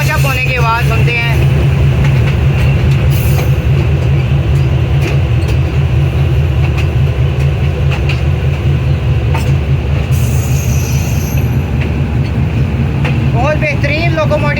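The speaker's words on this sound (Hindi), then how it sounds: "इनकी जो साउंड है चगिंग की, नौचप होते की, वो ट्राई करते हैं यहाँ से कैप्चर करने की।" An American-built diesel freight locomotive in Pakistan, hauling passenger coaches, chugs loudly and steadily at close range, its deep throbbing rumble continuous throughout as the engine notches up.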